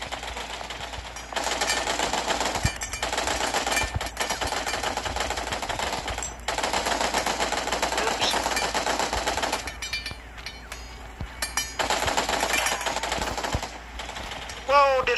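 Rapid automatic gunfire from the LifeAfter survival shooter, sustained bursts of shots with a few brief gaps, loud and close throughout the stretch.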